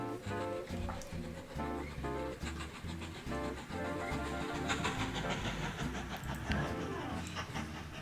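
Train running in the video game Mashinky, heard as steady rhythmic rail clatter and hiss mixed with game music throughout.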